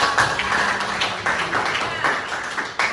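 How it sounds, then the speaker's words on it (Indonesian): Scattered clapping from a small group, uneven and fairly quiet, with a few louder claps near the end. "beri tepuk tangan dulu buat Salwa."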